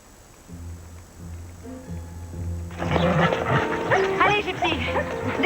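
Several dogs yip and whimper at a shelter run by nuns, with soft whines at first, then a burst of louder excited barking and yelping close by, with voices talking in the background.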